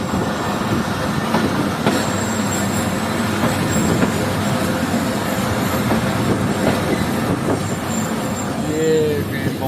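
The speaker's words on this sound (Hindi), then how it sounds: "EMC 15490 की क़यादत में जन जंक्शन रेलवे स्टेशन पर पहुँच रही है।" A passenger train led by locomotive EMC 15490 rolls into Jand Junction railway station, a steady close rumble of wheels and carriages with rhythmic clatter throughout and a brief wheel squeal near the end.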